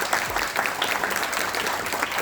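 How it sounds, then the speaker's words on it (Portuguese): Steady applause from an audience at a book launch event, a dense continuous patter of many hands clapping at moderate volume throughout. "Vamos aplaudir"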